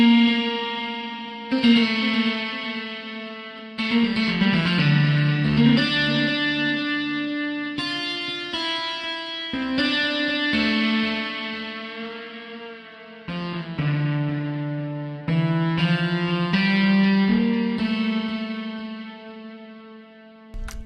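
A distorted electric guitar plays sustained notes and bends, drenched in echoing delay and reverb, loud and continuous with no voices.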